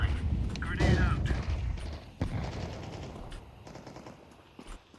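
Rapid gunfire bursts from a tactical shooter video game, loud and dense early on, then thinning into sporadic shots under a player's talk and game ambience.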